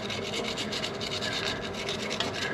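A wire brush scrubbing grease out of the bushing holes of an upper A-arm on a Polaris RZR Pro XP, rapid rhythmic scratchy strokes repeated about six times a second, close and steady, with no speech.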